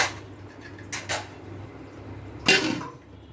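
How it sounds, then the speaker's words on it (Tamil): A metal chatti pot set onto a heated dosa tawa while making Kerala chatti pathiri: a couple of quiet clinks, then one sharper clatter of metal on metal near the end, against a low kitchen hum. "இப்போ அந்த தோசை தவாவில் தூக்கி இதை வச்சிடணும்."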